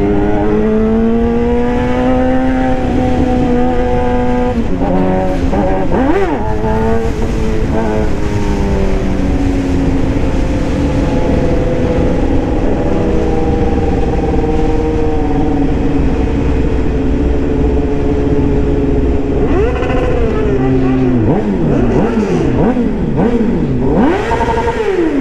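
Suzuki GSX-R 750 sport bike ridden through Houston streets among cars, a loud constant engine drone with shifting pitch and several quick revs and gear changes, heard up close throughout.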